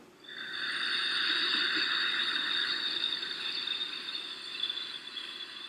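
Ujjayi yoga breath exhaled through a slightly constricted throat, a sustained breathy whispering rush lasting over five seconds, close and moderately loud, heard alone.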